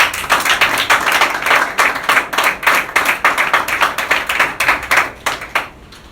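A church congregation claps rhythmically and loudly in praise of the Lord, a steady near run of quick handclaps that thins and stops near the end.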